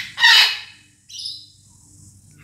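A pet bird gives a loud, harsh squawk followed by a thinner chirping call, then falls quiet briefly before another sound starts at the end, with no talking over it.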